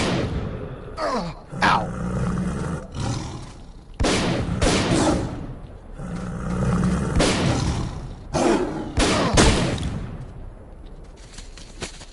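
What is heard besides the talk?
snork mutants attacking and gunfire in video game STALKER: Call of Pripyat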